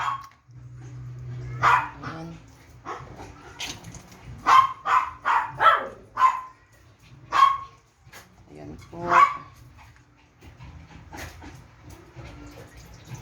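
Several dogs bark and yip in short, excited bursts at feeding time, close and loud, with a person talking between the barks.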